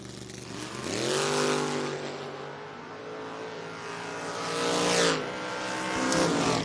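A drag race car, a 1994 Mustang in a footbrake class, revs hard and launches, its engine climbing in a loud sustained roar with another burst of acceleration following, heard from trackside.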